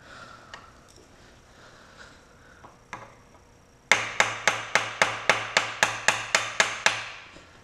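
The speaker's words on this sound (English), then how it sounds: "to tap my Phillips screwdriver into the head so that if it's a little stripped out and there are burrs, it'll kind of pound the screwdriver in there" A hammer taps a Phillips screwdriver into a stripped screw head on an XL125 during clutch pack replacement, sounding as about a dozen evenly spaced, sharp metallic strikes close by after a quieter stretch.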